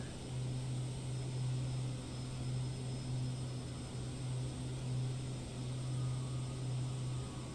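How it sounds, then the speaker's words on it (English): Steady drone of a Dash 8 commuter turboprop engine in a flight simulator, a constant low hum with an even whine above it, continuous and unbroken with no talk. "Dash 8. Puddle jumpers. Commuter aircraft."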